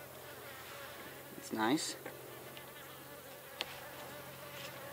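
Bees hum in a low, continuous drone around a horizontal beehive, with one louder buzz passing close by and a brief spoken remark.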